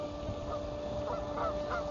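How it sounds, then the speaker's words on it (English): Geese honk repeatedly over a steady droning background, several birds calling in short bursts at moderate distance, at a park. "The geese are not happy."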